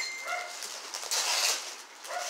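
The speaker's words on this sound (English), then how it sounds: "pardon the light barking you guys hear in the background" A dog barks and whimpers lightly in the background of a room, a few short calls over low room noise with little talk.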